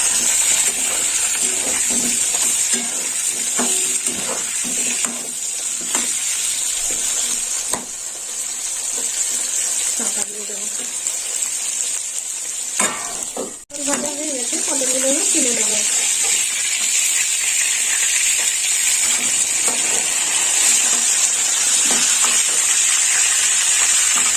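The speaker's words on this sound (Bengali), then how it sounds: "পটলটা ভাজা হোক" Pointed gourd (potol) frying in a pan, a steady close sizzle and hiss that runs almost unbroken throughout, with a short break midway and brief talk over it.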